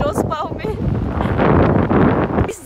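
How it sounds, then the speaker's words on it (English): Strong wind buffets the microphone on a long suspension bridge, a loud rushing roar that nearly drowns a person speaking at the start. "It's so windy. So windy in here."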